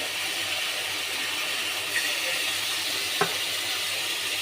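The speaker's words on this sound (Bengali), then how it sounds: "হালকা জল দিয়ে দেবো, নাহলে মশলাটা পুড়ে যাবে।" Spices in a pan hissing and sizzling steadily after a splash of water, a constant even sizzle with a couple of faint brief clicks and no voices.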